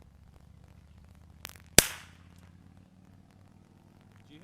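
A single sharp gunshot rings out at an outdoor shooting range, striking a big heavy steel target, preceded by a fainter shot, with a brief ringing decay and quiet background.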